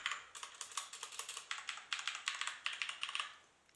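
Rapid, close typing on a Qisan Magicforce non-clicky mechanical keyboard, with quick runs of soft, muted keystrokes and short pauses between bursts.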